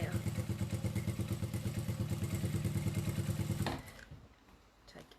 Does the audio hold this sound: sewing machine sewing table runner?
yes